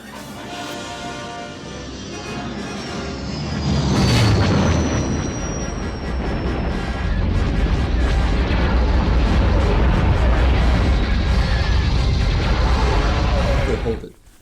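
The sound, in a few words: movie spaceship shooting at a smaller ship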